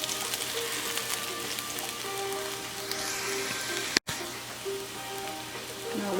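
Food sautés until golden brown in a pan while salmon and garlic eggplant are being cooked, a steady close sizzle with faint tonal hum and one brief dropout midway.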